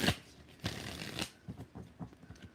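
Tarot cards are shuffled by hand in a few quick, soft riffling bursts, then several lighter taps as the deck settles. The sound is quiet and close, with no talk.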